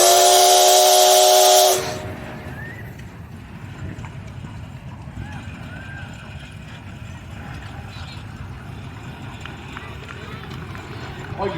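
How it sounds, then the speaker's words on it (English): A loud, shrill steam tractor whistle blasts for about two seconds at a steam tractor parade and cuts off, leaving the low rumble of machinery with faint voices behind it. "How about a whistle there, Barry?"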